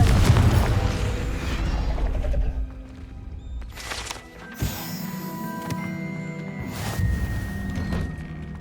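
Confringo fire spell explosions in Hogwarts Legacy, a heavy low boom and rumble opening the sequence, then several sharper magical bursts and thuds with ringing tonal tails, loud and close.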